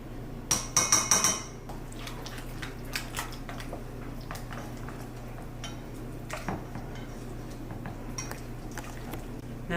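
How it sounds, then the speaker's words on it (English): Spoon clattering and scraping in a pot or bowl as sour cream is stirred into melted cream cheese for a buffalo chicken dip, a quick burst of knocks at first, then lighter intermittent taps and scrapes over a low steady hum. "it's time to add the sour cream. And just stir until it's combined."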